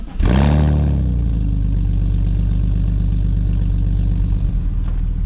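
A small car's engine cold-starts in snow, catching with a loud burst and settling into a steady, rough idle close by, with no talk over it.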